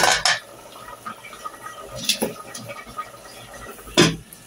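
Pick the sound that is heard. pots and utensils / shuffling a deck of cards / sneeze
pots and utensils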